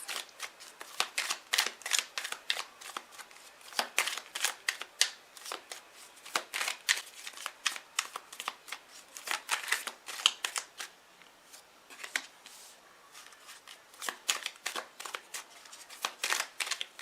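Tarot cards being shuffled in quick, riffling bursts of crisp paper flutter, repeated steadily with short pauses, close and fairly quiet.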